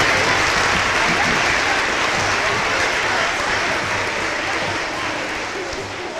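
A school audience at an elementary Veterans Day program gives 4th and 5th graders a long, loud round of applause that stays full and even, easing off slightly toward the end.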